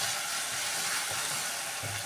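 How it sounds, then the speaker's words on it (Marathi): Tomatoes sautéing in a hot pan for a quick capsicum vegetable dish give a steady, close, even sizzle and hiss with no talking. "आपण टोमॅटो 2 मिनिटं भाजून घेऊया"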